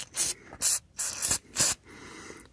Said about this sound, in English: spray some white lithium grease where the bolts are